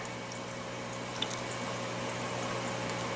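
Water slowly poured into the reservoir of an indoor garden kit, a steady soft trickle with faint splashes and drips, quiet and close.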